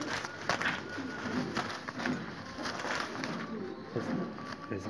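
Green pied pigeons coo softly in repeated low calls over steady background hiss, with a faint voice now and then.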